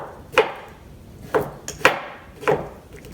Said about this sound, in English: we're just going to take each half and cut it into about 9 pieces